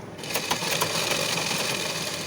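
A sewing machine runs at a steady pace, its needle stitching along both sides of a blouse ribbon in a fast even chatter that is close and moderately loud.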